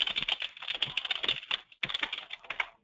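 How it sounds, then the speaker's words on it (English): Someone types on a computer keyboard with quick, uneven clusters of close, crisp key clicks, a brief pause partway through, and no talking. "If someone's typing, could they kindly stop?"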